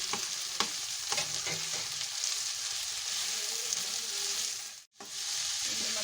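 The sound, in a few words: minced meat (keema) added to the pan, frying and sizzling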